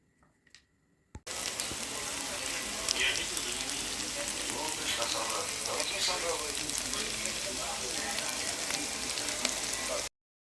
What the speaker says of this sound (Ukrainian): Буду обжарювати спочатку курку з цибулькою до золотистого кольору